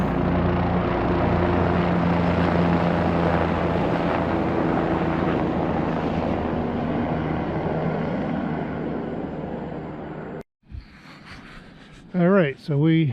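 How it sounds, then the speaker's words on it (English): A helicopter passing overhead above hills by Irondequoit Bay, a continuous throbbing rotor drone that fades slightly before cutting off, followed by a few seconds of someone talking. "Then we got a chopper going overhead."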